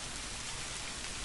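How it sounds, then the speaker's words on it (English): Steady rain falls outdoors, a dense, even hiss of drops with no pauses or voices. "Why are you outside when it rains?"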